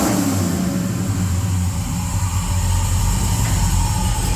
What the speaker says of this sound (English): Jacob just got the Elko fired up. For those who don't know, this is powered by an LS